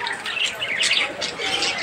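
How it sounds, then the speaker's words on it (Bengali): Many birds chirp and tweet together in a pet shop housing lovebirds and doves, a dense, steady chorus of overlapping high calls close by with no talk. "ভাইয়ের দোকানে আরও অনেক পাখি আছে, এই যে এবং লাভ বার্ড আছে"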